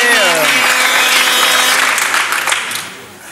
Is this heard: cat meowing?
no